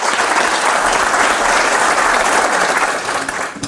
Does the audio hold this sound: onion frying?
no